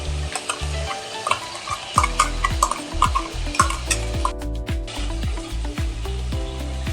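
Chicken sizzling in hot oil as ground spice paste goes into the pan, with a steady frying crackle and repeated sharp scrapes and taps of a spoon stirring against the pot.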